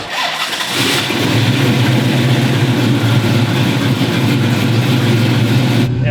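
A 1978 Pontiac Trans Am resto mod engine starts and settles into a loud, steady idle close by, its low rumble continuous for several seconds with no one speaking.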